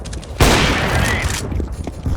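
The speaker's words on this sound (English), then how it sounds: "Grenade." A grenade detonates in Counter-Strike: Global Offensive: one loud, broad blast that swells suddenly and then rolls on as a dense, noisy tail for about a second, followed by fainter scattered gunfire.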